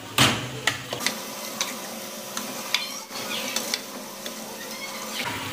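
A spoon stirs yogurt into beef white karahi in a pot, making soft scraping and clinking taps over a steady low sizzle, close and with no talking.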